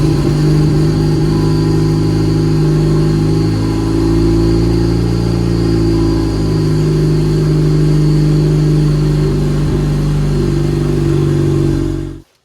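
A Dodge Caliber SRT4 with a swapped wastegate, running rich on C16 race fuel, idles loud and close with a steady deep rumble throughout, then cuts off abruptly at the end.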